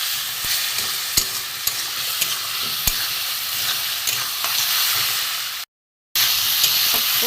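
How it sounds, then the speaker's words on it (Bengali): Spice paste with a little water being sautéed and stirred in a pan for a rohu fish curry with cumin paste, loud continuous sizzling and hissing with intermittent scraping stir strokes and a brief dropout near the end. "একটুখানি জল দিয়ে মশলাটা কষিয়ে নেব"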